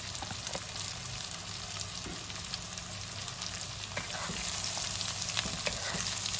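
Chopped onions sizzle steadily in hot mustard oil, a dense continuous frying hiss with faint stirring clatter, close and even throughout.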